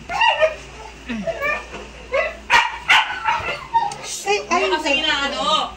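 A dog barks and yips repeatedly in short bursts, mixed in with people talking nearby.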